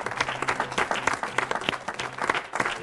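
Applause from a church congregation at a French-language Christian broadcast conference, dense steady clapping sustained throughout at moderate loudness, with faint voices mixed in.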